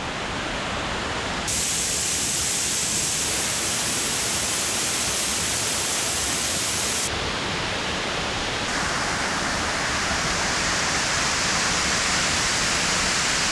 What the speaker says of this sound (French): cascade vraiment très sympa.